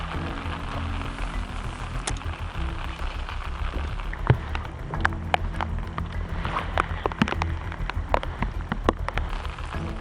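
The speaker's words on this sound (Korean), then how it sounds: "점점 더 굵어지는 빗방울." Heavy spring rain falls at a reservoir during bass fishing, a dense steady hiss with frequent sharp close drop impacts spattering throughout.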